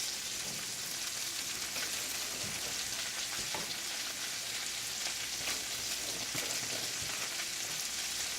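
Purple and red onions and carrots fry in a pan with a dense, even, rain-like sizzle and scattered crackles that run throughout, close and fairly loud, with no talking.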